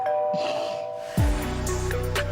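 A doorbell chimes from a distance, a two-tone ding-dong ringing out over a quiet room, followed by a low thump.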